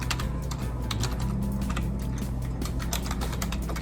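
Someone types a login on an instructor's computer keyboard in a classroom, a steady stream of close key clicks over a constant low background hum.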